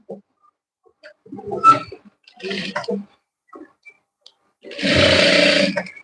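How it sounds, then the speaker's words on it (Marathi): Short bursts of a domestic sewing machine stitching tucks on a blouse, three or four separate runs with pauses between, the last burst longest and loudest, close by with no talking. "इथून अशी सरळ शिलाई करायची आहे"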